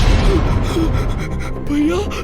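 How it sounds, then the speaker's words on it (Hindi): A man in a cartoon horror story pants and gasps in fear, with short rising breathy gasps over a dense, noisy background. "उसकी धड़कनें तेज हो जाती हैं और वो हाँफने लगता है"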